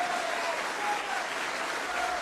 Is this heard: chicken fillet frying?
no